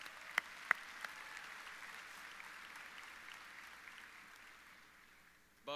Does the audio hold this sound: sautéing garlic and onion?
no